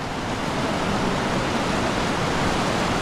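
A strong river current rushes at Coto Mines in Masinloc, Zambales, a loud, dense, continuous roar of turbulent water filling the whole scene without pause or voices.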